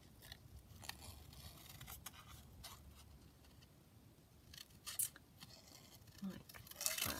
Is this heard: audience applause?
no